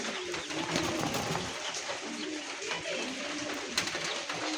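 Fancy pigeons in a breeding loft coo softly and repeatedly in low, rolling murmurs, with faint background noise and no clear talk.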